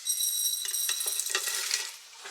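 Whole cumin, coriander, peppercorns, cloves, cardamom, star anise, bay leaf, fennel, cinnamon and mace dry-roast in a pan, giving a brief dry rustling scrape as they are stirred, with faint crackles.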